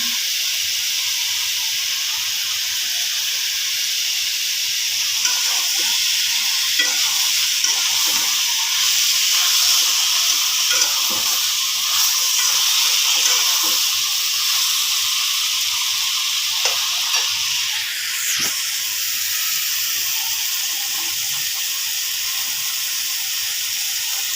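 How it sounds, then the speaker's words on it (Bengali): Ginger and garlic fry in a pan of hot oil as vegetables are cooked for tilapia curry. A loud, continuous close-up hiss and sizzle lasts throughout, with faint scrapes of stirring and no speech. "আদা রসুন দিয়ে দিচ্ছি"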